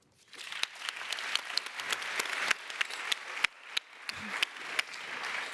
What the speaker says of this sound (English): Your applause.